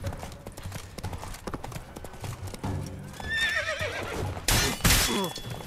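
Hoofbeats of a horse in mounted combat in The Witcher 3 clip-clop steadily under game ambience, then a loud whinny and neigh rise near the end, with a faint voice briefly audible.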